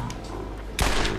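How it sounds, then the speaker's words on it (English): Gunfire in the Borderlands video game while fighting zombies: a sudden loud burst of shots erupts near the end after a low murmuring background, continuing to the close. "I'm just gonna keep moving forward and shooting at them"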